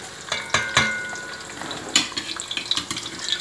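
Meat frying in hot oil in a cooking pot for ndolé, with crackling sizzle and sharp clanks of a utensil stirring against the pot, close and clear.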